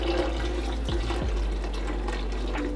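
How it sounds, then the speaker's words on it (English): Cream soda poured from a bottle into a container for a butterbeer recipe, giving a steady liquid gush with splashy fizz that runs through the whole stretch, close and fairly loud, with no talking. "take your cream soda. Pray that it doesn't explode on you like what had just happened to us. And now you're gonna pour out just half of this."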